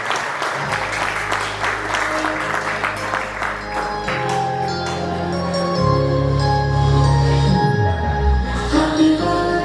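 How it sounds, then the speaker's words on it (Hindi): Guests at a first birthday party break into sustained applause, a dense crowd of hands clapping nearby that grows slightly louder, with a few voices and tones mixed in underneath. "जोरदार तालियां हो जाए विजय।"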